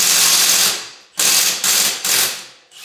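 A ratchet works loudly and close on stuck lug nuts of a Nissan 240SX that sat for five years, giving a long rasping pull and then three shorter strokes in quick succession.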